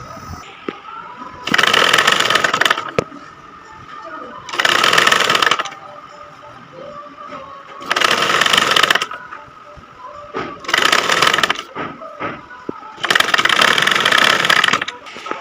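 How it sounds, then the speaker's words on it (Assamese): A sewing machine stitches the sleeve onto a blouse cut from a 34-size bra pattern, running in five loud bursts of a few seconds each with short pauses between them. "এনেকৈ মই হাতখন চিলাই দিম।"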